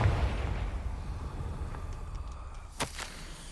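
A Confringo fire spell in Hogwarts Legacy bursts in a booming blast that rumbles and fades, followed a few seconds later by a sharp crackling snap and brief pops.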